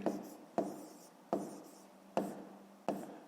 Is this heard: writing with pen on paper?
yes